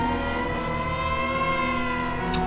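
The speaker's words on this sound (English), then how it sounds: "Do you hear those sirens?" Sirens from a TV show drama, a steady continuous wail heard alone at moderate loudness with no talk.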